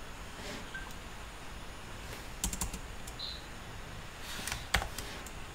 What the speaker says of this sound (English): After that you have to type